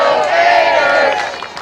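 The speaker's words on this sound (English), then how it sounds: "You can hear this crowd." Dense, sustained roar of a college softball crowd cheering in the Gainesville stadium during a Georgia vs Florida super regional game, loud and continuous throughout with swelling voices.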